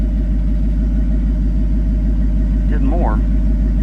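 A car engine holds a loud, steady mid-pitched drone during a sticky tire traction pull test on cold tires in 65-degree winter weather, with someone speaking briefly over it near the end.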